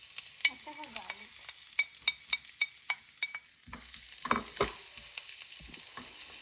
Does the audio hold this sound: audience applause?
no